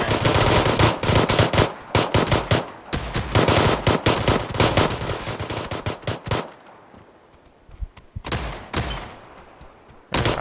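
Rapid automatic gunfire in PUBG rattles in loud, dense bursts, thinning to sporadic shots and a final pair of sharp cracks.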